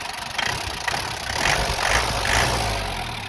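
An old Nissan Big-M diesel pickup truck engine idles, then is revved several times in short swells, each rising briefly before settling back to a rough idle.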